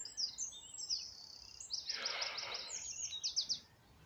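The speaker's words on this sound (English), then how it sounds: "That's a cuckoo." A cuckoo calls in the open countryside along a river trail, its clear repeated notes ringing out alongside other chirping birds, faint and somewhat distant, with no talking.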